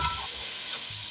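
Cabbage being stirred into tomatoes and onions frying in a pan, a steady broadband sizzle with soft scraping stir sounds, close and continuous, no talking.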